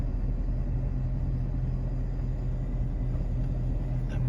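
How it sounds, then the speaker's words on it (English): A 2001 Chevy S10 regular cab short bed pickup with a four-cylinder engine runs as a steady, loud, low rumbling drone, unchanging throughout with no talk. "I believe this is 2001 Chevy S10, regular cab short bed"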